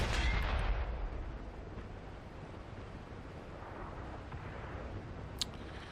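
A tank cannon shot in World of Tanks on the snowy Erlenberg Blizzard map, a loud boom at the start that fades into a long rumbling tail with wind-like ambience, no talking.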